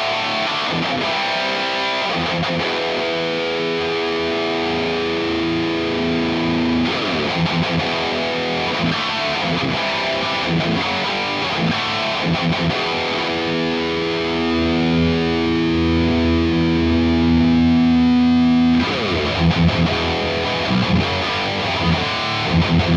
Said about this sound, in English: Sounds much fuller and meaner, and it just has more authority with all the notes and the chugs that I'm playing.